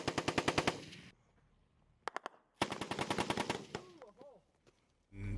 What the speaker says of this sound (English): they ended up starting to receive high volumes of machine gun fire